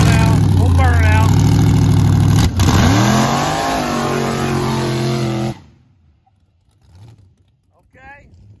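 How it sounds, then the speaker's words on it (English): A Chevy Blazer on bigger tires with a wheelie bar revs hard for a burnout, a loud, close roar that climbs and holds for several seconds before cutting off abruptly into near-silence with a few faint sounds. "We'll burn out."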